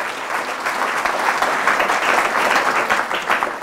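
A church congregation bursts into loud, sustained applause, dense clapping from many hands filling the room evenly for a few seconds.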